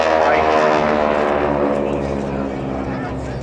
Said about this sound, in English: Got a 9-cylinder air-cooled radial engine, as I said, 600 horsepower.